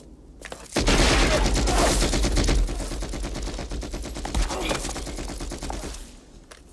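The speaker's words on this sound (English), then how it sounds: "That was a gun." Automatic gunfire in the 1990 Captain America film roars in a loud, dense, continuous volley lasting several seconds before cutting off, with no talking over it.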